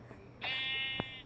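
A person imitates a sheep's bleat with one short, nasal, wavering "baa" held for just under a second, close and fairly quiet, followed by a small click.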